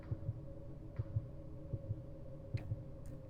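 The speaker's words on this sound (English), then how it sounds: "If you can hear your heartbeat in your ears for this long" A steady heartbeat throbs in the horror dating game Sucker for Love, paired thumps repeating about every second over a low droning hum, with no talking.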